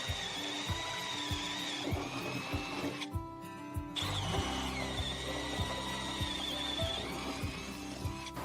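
A power drill bores holes in a Ford Courier 2024 door panel with a steady, close whine, pausing briefly midway and then resuming, while regular ticking knocks repeat throughout.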